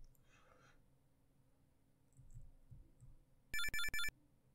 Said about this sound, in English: it makes me think the phone's ringing